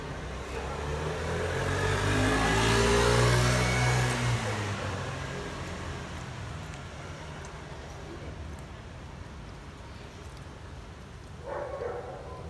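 Traffic passes a bus stop on a Barcelona street, one vehicle swelling loud as it drives by and then fading into a steady background hum, with a voice talking faintly near the end.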